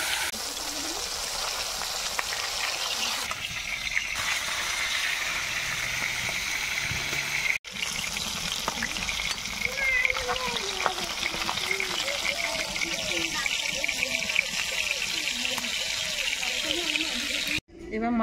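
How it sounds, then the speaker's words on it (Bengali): Rohu fish frying in oil left over from pumpkin-flower fritters makes a continuous soft bubbling sizzle, steady and moderately quiet throughout, with a voice talking over it. "বড়া ভাজা তেলে আমি মাছটা ভেজে দিচ্ছি।"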